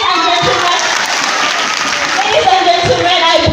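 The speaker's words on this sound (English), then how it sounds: "they are clapping their hands" Audience applause at a college graduation ceremony: dense, continuous hand clapping from a large crowd filling the space, with a voice faintly over it.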